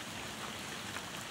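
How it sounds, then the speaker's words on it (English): Rain falling on a flooded yard after a downpour, a steady broadband patter and hiss throughout with no voices. "rain getting on my phone right now."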